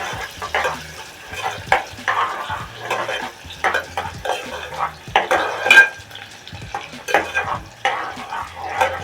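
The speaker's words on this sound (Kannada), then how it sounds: "ಈರುಳ್ಳಿ ಚೆನ್ನಾಗಿ ಒಂಬಣ್ಣ ಬರೋ ತನಕ ಅದನ್ನು ಚೆನ್ನಾಗಿ ಫ್ರೈ ಮಾಡ್ಕೋಬೇಕು" Onions sizzle steadily in a pan while a utensil stirs and scrapes them in repeated clattering strokes, close and fairly loud, with no talking.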